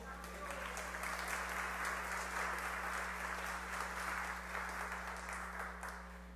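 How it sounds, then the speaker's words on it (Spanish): A church congregation applauds for several seconds, a dense even clatter of many hands over a steady low hum, swelling quickly and tapering slightly at the end. "Denle ese aplauso al Señor."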